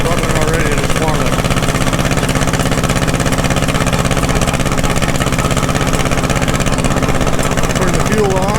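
A Caterpillar RD-6 crawler tractor's diesel engine idles steadily and loudly from start to finish, a close, continuous low chugging throb.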